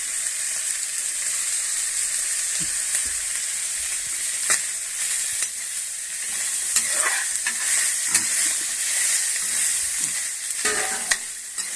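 Chana dal and coconut being lightly sautéed for kadalai paruppu chutney, a steady close sizzle with scattered stirring scrapes and clinks of a large spoon against the pan, no voices.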